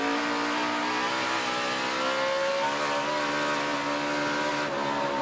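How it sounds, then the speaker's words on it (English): A Toyota NASCAR Sprint Cup race car on a road course spins its rear wheels under power, a loud, steady, high-revving engine drone with rising harmonic tones heard up close and continuously. "Getting some wheel spin, though. You can hear that. A lot of wheel spin."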